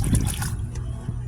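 Rainwater splashing and trickling as it is poured from an old sun-worn bucket, a short close pour that fades to a quieter dribble.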